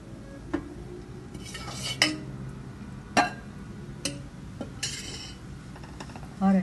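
Metal spoon scraping and clinking in a pan while panjiri roasts in ghee, with sharp intermittent taps every second or so over a soft steady background, close and moderately loud.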